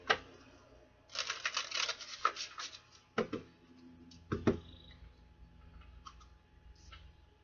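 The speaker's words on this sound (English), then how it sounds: "One more shuffle" Tarot cards shuffled by hand, a quiet close-up riffle of soft papery flicks and taps in uneven bursts with short pauses between them.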